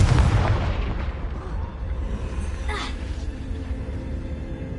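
Confringo blast spell going off in the Hogwarts Legacy video game, a loud, deep explosion up front fading into a long rumbling tail, with a brief whooshing burst partway through.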